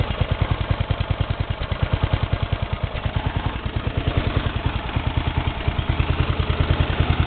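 A Briggs & Stratton 11 HP engine with a carburetor problem runs with an even, rapid thumping beat, loud and close, alone without speech.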